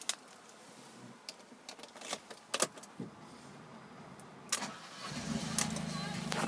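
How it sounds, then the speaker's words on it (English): A manual black Fiat 500 TwinAir is started with its key: clicks and jangles come first, then the engine catches and settles into a steady low idle. A voice speaks over it. "And if we just get the car started."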